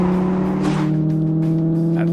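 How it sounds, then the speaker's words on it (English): Smooth, steady engine note from a classic car in The Grand Tour Game, a continuous creamy drone with strong harmonic layers holding at a constant loud level, with a slight rise near the end. "This is one of the greatest engines ever made. The creamiest, the smoothest, and the most beautiful to listen to."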